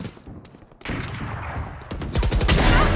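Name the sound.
gunfire in a video game, likely Valorant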